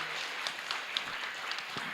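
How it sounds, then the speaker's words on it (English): Soft, thin applause for panelists at a media literacy dialogue, with a few distinct claps popping out over a low, even patter for about two seconds. "please give them a final round of applause"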